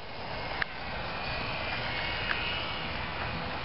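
HobbyZone Champ RC airplane flying at half throttle, a steady distant motor drone with a faint whine that holds level throughout.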